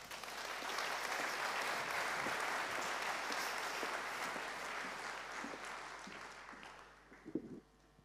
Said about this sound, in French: vous avez applaudi, vous êtes sympa